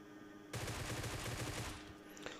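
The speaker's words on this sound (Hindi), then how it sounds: "मेरे को पीछे से फायरिंग आती है" Rapid automatic gunfire from a firefight in the mobile battle royale game PUBG Mobile, a dense burst of shots lasting just over a second, fairly loud with no talk.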